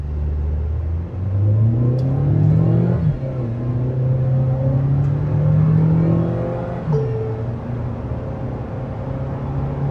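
Petrol Tata Safari or Mahindra XUV 7XO SUV pulling away hard from a stop in sports mode, engine note climbing steadily through two gearshifts, loud and close from inside the cabin with road rumble underneath.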